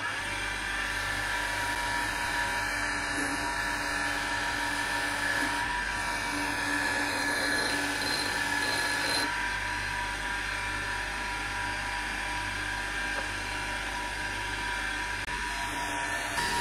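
A bench grinder spins steadily while rust is cleaned off the running faces of Ducati 748 idler bearings, giving a continuous whirring, buzzing hum with a shifting grinding texture throughout, loud and close, with no talking.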